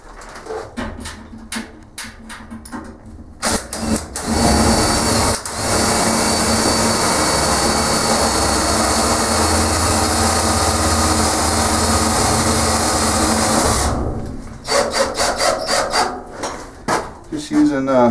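A power drill drives self-tapping screws into a steel shipping container wall, giving a short burst and then one long steady whine of about ten seconds, with clanking metal handling before and after.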